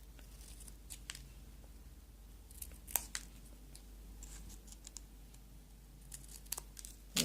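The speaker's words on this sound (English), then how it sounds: "So I'm just going to cut it off, cut in the middle, and then cut to that point." Scissors snip through a paper banner for a stamped card project: a series of short, crisp cuts with irregular spacing, fairly close and quiet, heard alone with no talking.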